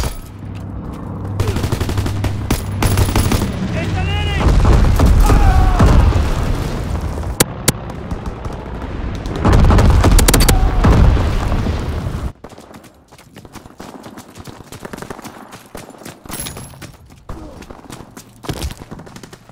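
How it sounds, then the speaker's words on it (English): Incendiary bombs dropped by a bomber burst in heavy, rumbling explosions mixed with rattling gunfire in a Call of Duty WWII battle, loud and dense, then easing to scattered shots; voices speak over the din. "Bomber approaching. Incendiary bombs incoming."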